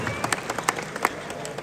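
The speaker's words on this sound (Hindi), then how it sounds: "तालियां बजा लीजिए।" A Pakistani community mushaira audience applauds, a crowd of hands clapping steadily at moderate volume with a few louder individual claps standing out, brief and continuous.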